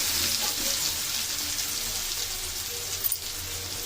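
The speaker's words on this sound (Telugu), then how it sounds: "పచ్చిమిర్చి బాగా వేగాక సన్నగా తరుక్కున్న ఉల్లిగడ్డలు పట్టుకోవచ్చు కదా నేను" Green chillies and thinly sliced onions sizzle in a hot pan, a steady close hiss of frying that runs unbroken throughout with a slight stir-like disturbance near the end.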